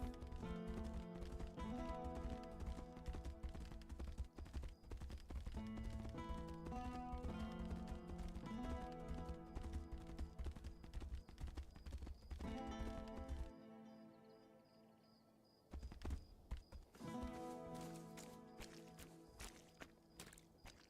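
Horse hooves clip-clop steadily in the video game Tainted Grail: Fall of Avalon, a continuous rhythmic trot mixed under dense game music, with a brief quieter break before the hoofbeats and music resume.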